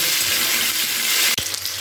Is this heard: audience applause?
no